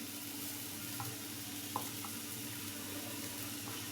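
Ground spices with turmeric, chili powder and coriander sizzling in oil in a pan, a low continuous frying hiss with a few faint utensil taps.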